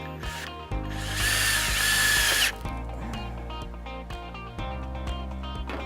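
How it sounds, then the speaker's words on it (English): A power drill whines loudly for about a second and a half, driving a self-tapping screw into a Hover Guard, then stops, followed by quieter clicks and handling noises. "And then you're gonna put the next self-tapping screw in."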